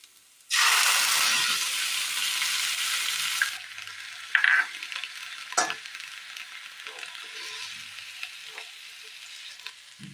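Mashed yogurt hits a pan of hot frying Kerala curry with a loud burst of sizzling that lasts about three seconds, then settles into quieter crackling and scattered stirring scrapes.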